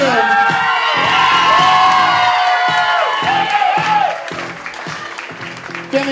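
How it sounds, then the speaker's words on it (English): Wedding guests cheer, whoop and applaud loudly for the bride and groom. Excited shouts and screams rise over dense clapping, then the noise eases toward a lower level of continued applause. "One more time, everybody make some noise for our bride and groom."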